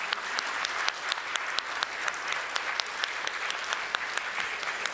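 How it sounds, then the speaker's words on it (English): Congregation at a Unitarian Universalist service applauds 7th through 9th grade OWL graduates, a soft, sustained round of clapping with a few sharper individual claps standing out, heard from a little distance with no talk. "let's give them a round of applause for all their hard work"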